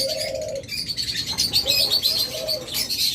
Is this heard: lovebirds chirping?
yes